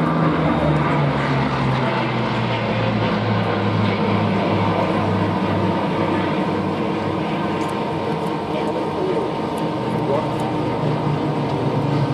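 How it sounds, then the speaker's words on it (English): A Bristol Blenheim twin-engined aircraft flies at an air show, its steady, loud propeller drone continuous throughout, with a faint voice talking underneath. "with this big twin-engined machine"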